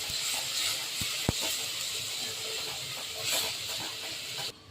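Tomatoes frying in a hot pan of oil for fish sambar give a steady, close sizzling hiss with a few sharp clinks of a utensil against the pan, and no voices.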